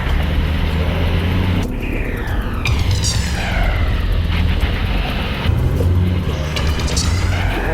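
An off-road vehicle fitted with an Eaton locking differential grinds up a massive rock step, its engine a continuous, loud rumble with rising and falling strains as it climbs, recorded from inside the vehicle.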